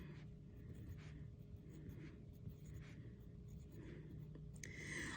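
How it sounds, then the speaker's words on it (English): Faint, soft scratching of a pen or pencil writing small numbers along the axis of a coordinate plane graph on paper, quiet strokes over a low steady background hum. "I'm writing the numbers exactly on the line."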